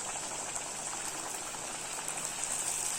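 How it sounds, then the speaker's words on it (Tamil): Rolled poori dough sizzles and bubbles steadily in hot oil, a dense, even crackling hiss that stays close and continuous throughout. "இப்போ தேய்ச்ச மாவை நம்ம எண்ணெயில் போட்டுடலாம்."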